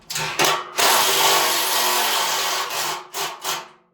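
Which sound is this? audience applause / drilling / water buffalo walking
drilling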